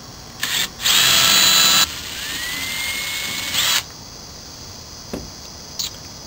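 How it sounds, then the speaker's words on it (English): A power drill with a 5/32 bit bores holes for a tailgate rack, two short loud whirring bursts, the second winding up in pitch, followed by quiet handling clicks and a faint background hiss. "So now we're going to take our 5/32 drill bit and drill, and we're going to drill the holes for the tailgate assembly."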